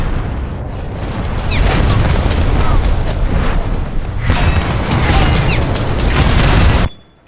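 Torpedo hits sinking an enemy ship in a naval video game: heavy rumbling booms and crackling blasts roll on loudly for several seconds in waves, then cut off abruptly near the end.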